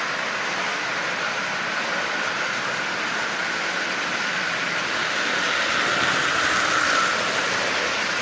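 A Marx 999 toy locomotive runs steadily around its track at half power hauling 18 cars, giving a continuous close whirring motor hum and rail rumble that swells slightly toward the end.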